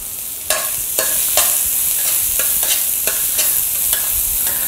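Minced garlic and onion stir-frying in hot oil in a wok for dry-braised shrimp, a loud continuous sizzle punctuated by regular scraping strokes of a spatula, close and prominent with no talking.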